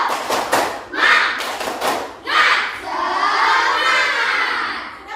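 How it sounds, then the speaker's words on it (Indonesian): Schoolchildren in a classroom perform a 'tepuk semangat' clapping chant, bursts of rhythmic claps followed by loud shouted voices in unison, close and lively. "Tepuk semangat."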